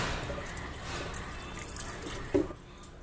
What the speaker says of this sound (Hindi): अब इसे ना ठंडे पानी से अच्छे से वॉश कर लेना है